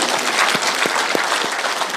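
A crowd at a Kenyan political gathering breaks into applause, a loud, steady wash of clapping with a few sharper individual claps standing out.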